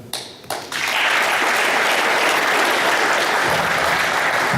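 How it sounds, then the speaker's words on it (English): An audience at a volunteer appreciation gathering for a heritage society breaks into loud, sustained clapping after a brief pause, filling the room with dense, even applause that holds steady to the end. "I think you should all give yourselves a round of applause for that"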